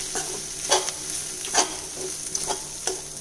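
Wheat rava frying in oil with onions in a pan, a steady sizzle broken by regular scraping strokes of a spoon stirring, close and clear with no talk.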